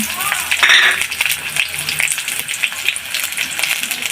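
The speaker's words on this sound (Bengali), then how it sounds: "এবার আমি পেঁয়াজ কুচি এবং কাঁচামরিচ দিয়ে দিলাম।" Chopped onion and green chillies hitting hot oil in a pan, a bright burst of sizzling that settles into crackling, spitting frying with scattered pops.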